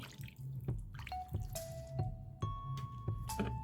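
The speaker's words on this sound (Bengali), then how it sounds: "তারপর এখানে দিয়ে দিচ্ছি ওয়ান কাপ পানি" One cup of water poured into a chicken liver and spice mixture, heard as soft close drips and wet splashes in a few quick bursts, quiet and without talking.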